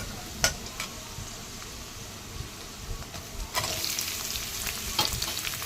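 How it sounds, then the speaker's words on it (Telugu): Garlic cloves fry in oil for mushroom biryani, a soft sizzle punctuated by sharp spatula scrapes and stirs that grow busier toward the end, close and without talk. "వెల్లుల్లిపాయ రెబ్బలు వేసి కలపండి."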